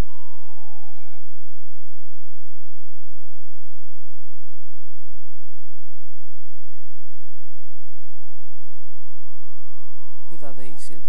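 An ambulance siren from the Emergency 4 video game with a Portugal mod, sounding for patient transport: a steady electronic wail that sweeps slowly up and down throughout, ending in a brief noisy burst.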